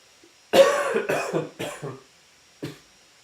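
A close burst of several harsh coughs in quick succession, then a pause and one more single cough.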